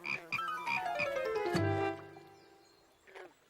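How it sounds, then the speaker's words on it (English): A cartoon frog croaks loudly in a short run of bright, wobbling calls that end in a falling tone, heard alone with no talking. "Ribbit. Ribbit. Ribbit, ribbit."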